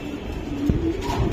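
A Pakistani pigeon coos nearby in a brief low call over a steady background hum, with no talk.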